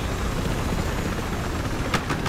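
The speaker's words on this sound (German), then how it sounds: "dieser verdammte Helikopter" Helicopter in the video game Battlefield Hardline: a steady, loud, broadband rotor and engine roar with no break, joined near the end by a few sharp transient hits.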